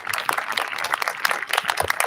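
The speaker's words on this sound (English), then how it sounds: "let's give the students one more round of applause for all their hard work" A drive-in concert audience claps for the students in a short burst of scattered, moderately loud applause, with some talking mixed in.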